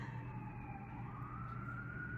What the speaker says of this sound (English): Okay, so I hear the sirens.